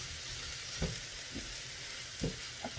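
Kedgeree of fish and rice being stirred in a pan that is slightly too small, a soft steady frying sizzle under a few scraping stirs and light utensil knocks, close and fairly quiet.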